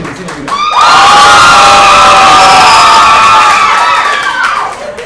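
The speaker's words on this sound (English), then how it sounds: "Clap the married people." A stand-up comedy audience cheers and whoops loudly for several seconds, swelling quickly and fading near the end, with some clapping mixed in.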